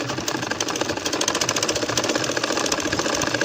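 A sewing machine stitching a baby nakshi kantha quilt, running fast and close with a steady, rapid mechanical chatter.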